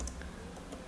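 Keystrokes on a computer keyboard while code is entered, a few quiet, quick clicks spread across a brief, faint moment with no talking.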